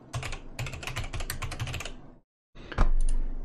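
Typing on a computer keyboard: a fast, close run of clicky keystrokes for about two seconds, a brief pause, then a heavier burst of key presses.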